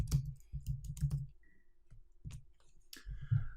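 Fingers type on a computer keyboard in short bursts of close, crisp key clicks, with brief pauses between runs and no talking.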